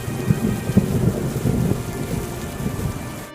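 Heavy rain driven by strong wind beats down during a storm outside a poor farmer's mud-walled house, a loud, steady downpour with low thunder rumbling beneath it and no voices.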